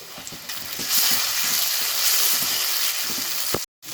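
Onions browned deep red with cardamom and cinnamon, with ground spice paste going into the pan for a bottle gourd and shrimp curry, sizzle in a loud, steady hiss that cuts out briefly near the end.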